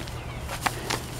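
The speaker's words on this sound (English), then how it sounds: "Over here is the meat chicken coop and their run." Meat chickens in a backyard coop and run on an intensive city farm give two short, close clucks about a quarter second apart over a steady low background hum.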